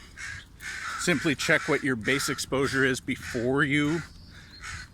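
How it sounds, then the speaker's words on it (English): Crows caw outdoors, a few harsh calls mixed in with steady nearby talk that carries through most of the stretch. "Hey, Mr. Crow."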